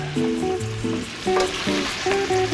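Shrimp fry spread out in a hot pan, giving a steady, close sizzle throughout, with melodic tones layered over the hiss.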